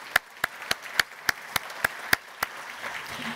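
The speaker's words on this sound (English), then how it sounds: "Let's give them a round of applause." A few hands clapping after a conservation panel at a meeting: about nine crisp, evenly spaced claps in a steady rhythm, close and clear, then stopping and leaving quiet room tone.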